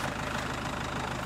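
Diesel engine of a Toyota Land Cruiser Prado 150 idling, a steady low rumble with an even mechanical pulse, heard alone briefly.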